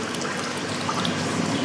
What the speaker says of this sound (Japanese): 最初は、口を大きく開けて息を吸って、お水の中で鼻から吐きます。